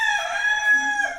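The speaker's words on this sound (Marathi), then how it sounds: "कोंबडी खाते." A chicken gives a short, close, bright crowing call lasting just over a second, clear and alone.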